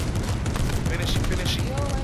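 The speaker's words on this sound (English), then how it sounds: "They're shooting me over here." Rapid bursts of automatic gunfire crackle through a multiplayer shooter match, dense overlapping shots and distant booms forming a continuous noisy barrage with faint game sounds.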